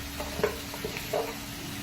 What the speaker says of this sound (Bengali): আলুগুলো এখানে আমি একবারে ভেজে নেব।